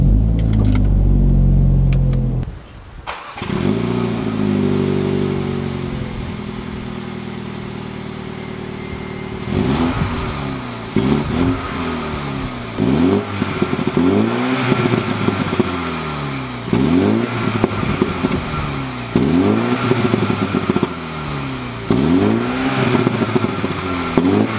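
A 2018 MINI Cooper S engine idles steadily, then gets revved hard in a run of repeated blips, each rising sharply and dropping back, loud and close with popping on the overrun.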